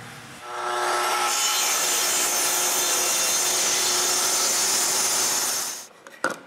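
A saw cuts through a wooden panel for a bathroom towel cabinet in one long, steady, loud pass that stops abruptly near the end, followed by a few faint knocks.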